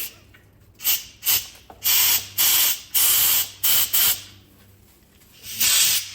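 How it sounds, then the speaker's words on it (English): Compressed air blasting from a nozzle through the ports of an old Chicago Electric two-stroke generator, in a series of loud, close hissing bursts of uneven length separated by brief pauses. "I just take this air nozzle and then I just start blowing it through."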